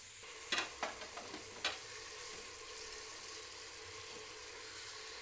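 Onions sizzle softly in a pan, a quiet steady frying hiss with a few clicks of stirring near the start.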